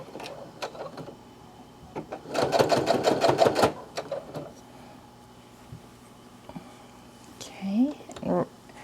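A sewing machine back stitches through a self-binding minky blanket, a short fast rattling burst of stitches up close, with a soft voice speaking quietly around it and small handling noises after.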